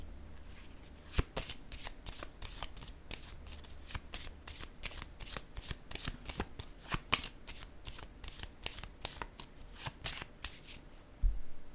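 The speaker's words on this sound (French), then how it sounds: "Je vais déposer une carte sur la créativité." Tarot cards handled and set down one after another on a table, a long run of crisp, close papery snaps and flicks in quick irregular rhythm, with no talking.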